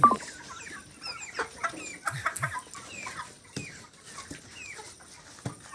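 Chickens cluck in short repeated bursts, close by, with some higher squawks mixed in; no one speaks.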